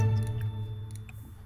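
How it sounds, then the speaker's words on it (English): Soft, close computer mouse clicks during a life-simulation game session, a few faint ticks scattered over a steady low hum, with no talk. "Can you guys hear my mouse clicking?"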